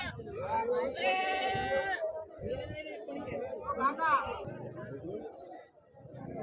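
Several lambs bleat in high, wavering cries at the weekly livestock market in Dubbaka, one long call standing out, over a constant murmur of people talking nearby.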